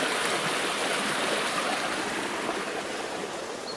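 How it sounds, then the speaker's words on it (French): A river runs steadily near an abandoned, reportedly radioactive swimming pool in France, a constant broadband rush of flowing water, fairly close and uninterrupted. "je pense que la rivière coule d'ici aussi"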